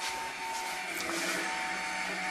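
A 3D printer lays down filament parts for a DIY electric kick scooter, giving a steady whirring hum with faint stepper-motor whines, running alone at moderate level.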